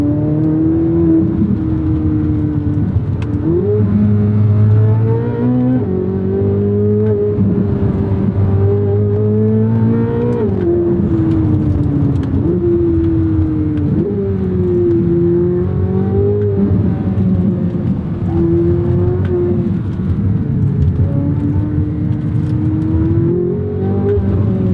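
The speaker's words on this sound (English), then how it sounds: "That engine is fucking glorious, of course." A 2023 Chevrolet Corvette Z06 with the Z07 package accelerates under throttle, its engine note loud and close as it climbs and falls through several rising sweeps of revs over about twenty-five seconds, with no talk.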